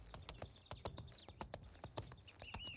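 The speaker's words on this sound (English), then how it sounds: "I love the horse like riding sounds as well." Horse hooves galloping in The Sims 4 ranch gameplay, a quick steady run of loud, close clip-clop beats with no voices over them.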